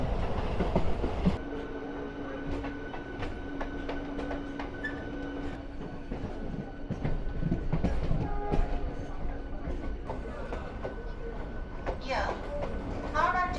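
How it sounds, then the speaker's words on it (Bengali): A local train runs into Howrah Junction with a steady rolling rumble, clattering wheels and a brief thump near the start, heard from on board and loud throughout. "নির্ধারিত টাইমের আগেই কিন্তু ঢুকে যাচ্ছে হাওড়া জংশন"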